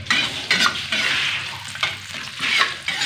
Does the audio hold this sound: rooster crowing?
no